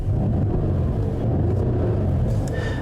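A 2021 Mercedes-Benz GLE 53 AMG 4Matic's engine and exhaust rumble drones steadily in its powerful drive mode, close and fairly loud, without obvious revving peaks.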